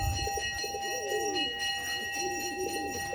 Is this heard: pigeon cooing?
yes